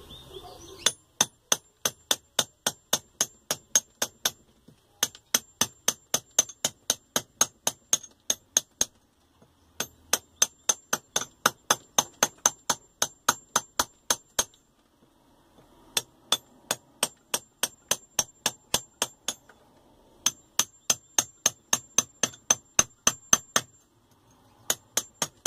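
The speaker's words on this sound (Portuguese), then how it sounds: "Talhadeira e um martelo, tá? E aí você vai na parede" A hammer strikes a chisel into an old, crumbling brick wall in rapid, regular ringing bursts of metallic taps, each run separated by brief pauses, close and clear with no talking.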